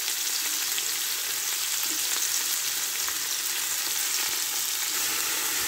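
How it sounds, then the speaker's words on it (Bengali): Onions hiss in hot oil as they start frying for masala prawns, a loud, dense, unbroken sizzle heard close up with no voices. "এই তো তেলটা গরম হয়ে এসেছে, আমি এখন এই পেঁয়াজগুলোকে তেলের মধ্যে ছেড়ে দিব।"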